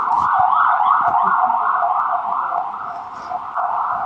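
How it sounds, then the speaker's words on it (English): An emergency vehicle siren wails loudly and steadily in a continuous rising-and-falling sweep as it passes nearby, easing slightly toward the end, with no talk over it. "I had to wait for like the siren to go by"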